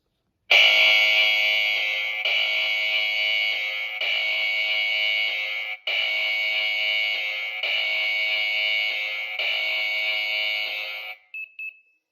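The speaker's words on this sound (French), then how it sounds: "je trouve que l'alarme n'est pas assez puissante, honnêtement." A loud, piercing electronic alarm from an inexpensive home security system shrills steadily in pulses of about two seconds each, then cuts off, followed by a few short beeps.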